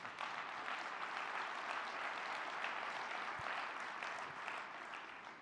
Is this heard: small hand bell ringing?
no